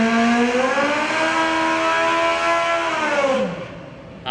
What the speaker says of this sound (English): I hear a motorcycle.